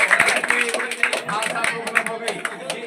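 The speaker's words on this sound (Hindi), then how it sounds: "आज जोरदार तालियों का स्वागत करें।" Audience at a prize-giving stage show breaks into dense, steady clapping that fills the whole stretch, with voices mixed in underneath.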